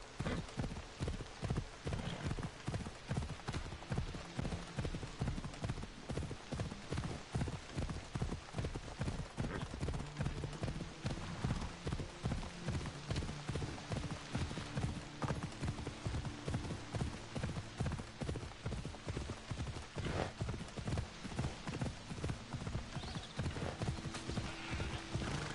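Galloping horse hooves in Assassin's Creed Odyssey, a fast, rhythmic clip-clop that runs steadily throughout with an occasional whinny, while a voice speaks briefly over it.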